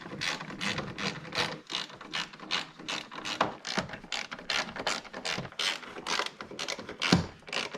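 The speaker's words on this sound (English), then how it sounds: "Grab a 13mm and screw in the four 13mm screws that hold the radiator support." A ratchet drives in 13mm radiator support screws on a 2009 Mini Cooper during an engine install, giving rapid repeated clicking bursts, close and clear, in an uneven rhythm of strokes with no talk.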